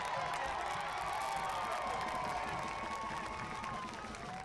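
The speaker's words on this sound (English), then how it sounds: "received a standing ovation from this crowd" Stadium crowd at a Lexington SC versus Northern Colorado Hailstorm soccer match gives a sustained standing ovation, steady applause and cheering washing evenly across the whole stretch with no pauses.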